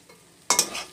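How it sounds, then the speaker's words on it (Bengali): A spatula scrapes and stirs a fish mixture with meat masala in a pan for lote macher jhuro, one short sharp double scrape over a soft sizzle after a near-silent start. "সব মিশিয়ে নাড়াচাড়া করে নেব।"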